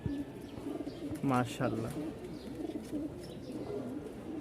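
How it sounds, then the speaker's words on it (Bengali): Rajshahi pigeons, a crested, feather-footed male and female pair, coo in soft rolling calls close by, while someone talks over them throughout. "আজকে কিছু কবুতর দেখাবো, খুবই চমৎকার চমৎকার"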